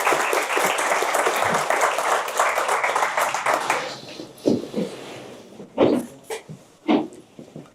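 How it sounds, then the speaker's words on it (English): Audience applause for two speakers after a debate on AI risk, dense clapping for about four seconds that then thins to a few scattered claps, with some faint voices near the end. "some clapping for the two speakers"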